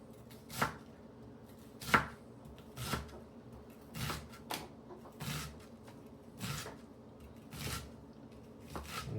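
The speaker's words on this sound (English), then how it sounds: "I'm definitely not a professional onion slicer, but I think I do okay." A knife slices through a sweet onion on a cutting board in about a dozen crisp, evenly spaced chops, close and fairly quiet with no talk.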